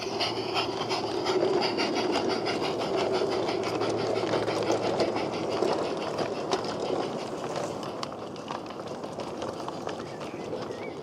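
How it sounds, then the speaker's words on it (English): A light railway pickup goods train with eight wagons of mixed goods pulls away. A steady rhythmic mechanical chatter of running gear continues throughout, fairly close and even in level, with no voices. "the pickup goods can depart, with its 8 wagons of mixed goods"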